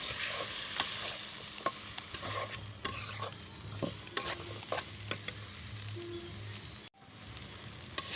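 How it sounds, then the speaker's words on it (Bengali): Cut potatoes sautéed in a spice masala for singara, frying with a steady sizzle while a spoon stirs and scrapes the pan in irregular strokes, close and alone with no talk. "এখন আমি দিয়ে দিচ্ছি কেটে রাখা আলু। আলুটা আমি একটু কষিয়ে নেব।"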